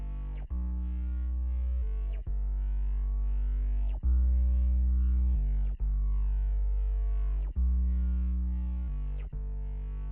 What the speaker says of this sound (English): this bass from Alex Che's Onion Serum bank. It's called Bass Sketch.